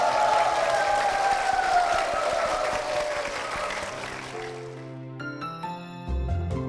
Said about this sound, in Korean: 앞으로도 주님 붙잡고 주님을 위해 헌신하는 두 분이 되실 수 있도록 축복의 박수 부탁드리겠습니다.